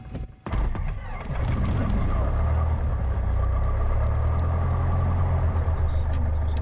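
A light aircraft's propeller engine at Gloucestershire Airport coughs to life after a brief quiet moment, then settles into a loud, steady, close droning rumble that continues without a break.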